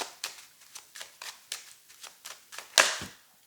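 Playing cards are shuffled and drawn for a tarot reading, a quick run of crisp riffling flicks and snaps that ends in one sharper slap, close and fairly quiet with no talk.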